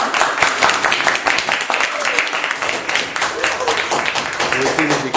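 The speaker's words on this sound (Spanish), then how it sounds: "Jacqueline, un aplauso." A classroom group applauds a student, an uneven burst of many hands clapping loudly and close, with voices talking and calling out over the clapping throughout.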